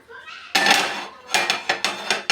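Metal cookware clatters and clinks as a dosa pan is set down on a kitchen stove, with one loud clank followed by several shorter knocks, close and sharp, with no talk.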